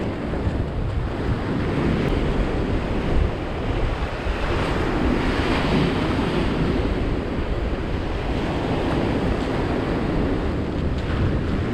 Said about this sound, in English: There's quite a strong crosswind.